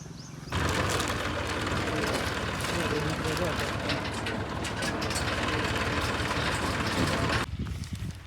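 A tractor engine runs steadily for several seconds, a loud continuous low rumble that cuts in abruptly and stops just as suddenly, with no talk over it.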